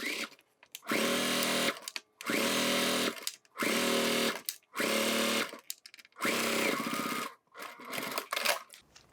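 A sewing machine stitches a wristlet strap in about six loud, close bursts of whirring, each lasting roughly a second with brief pauses between, and no one speaking.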